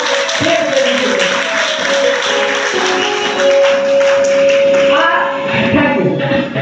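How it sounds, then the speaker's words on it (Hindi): Loud, sustained applause from a crowd fills the whole stretch, with a steady tone ringing underneath and some indistinct voices mixed in. "उसके लिए आप लोगों के लिए जोरदार ताली"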